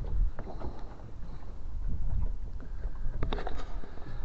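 A small boat out on open water near the island of Nekselø, its low engine rumble and water noise rising and falling steadily with light wind buffeting the microphone, close and moderately loud, no talking.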